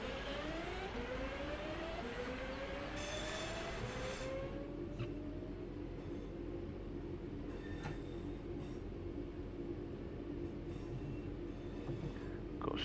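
A train pulls away in the Train Sim World 4 video game, with rising motor whine tones layered over a steady low rumble, then settling into continuous running noise with occasional faint squeals and clanks.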